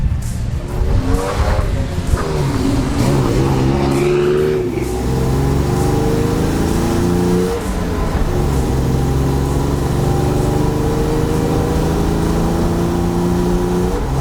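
A Volkswagen kit car converted into an off-road 4x4 drives loudly up close on a dusty track, its engine revving and shifting through rising gears and then holding a steady, sustained roar.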